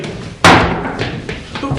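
Someone knocks on a door in a comedy sketch: one loud, sharp rap followed by a few softer taps, heard close up with no one speaking.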